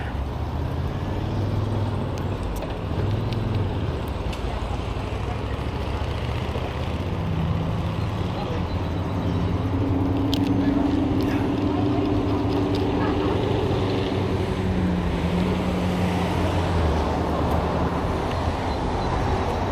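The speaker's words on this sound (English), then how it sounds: "crazy amount of traffic down here." Heavy road traffic rolls past continuously near a trail, a dense steady roar of cars, buses and trucks with engine drones swelling and fading as vehicles pass.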